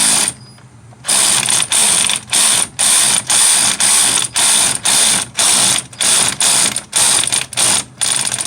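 A ratchet backs out 15 mm bolts on the steering linkage of a GM truck, about a dozen loud, close bursts of rapid pawl clicking with short pauses between them.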